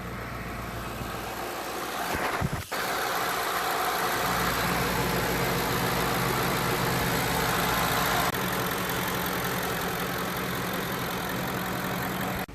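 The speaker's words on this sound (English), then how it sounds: "We're going to start her up and let her idle for 15 minutes." The engine of a 2007 Lincoln Navigator L idles steadily and close, with a brief clunk and dip early on before the smooth, even rumble continues.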